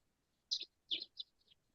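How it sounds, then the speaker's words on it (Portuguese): A small bird gives four or five quick, high, thin chirps over under two seconds, faint and a little distant against a quiet background. "É o passarinho. Passarinho que está dando."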